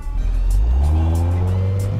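A supercharged Audi R8 at a cars-and-coffee meet revs close by. The engine note climbs steadily and stays loud and full for the whole moment, with no talking over it.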